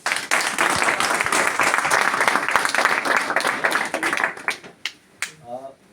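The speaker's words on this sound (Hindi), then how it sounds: "तो जोरदार तालियां।" A crowd applauds loudly with dense, sustained clapping for about four seconds, then it thins to a few scattered claps before a voice begins speaking.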